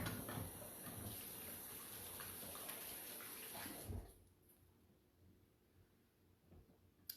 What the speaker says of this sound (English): let me just wash my hands right quick because I'm dealing with fish.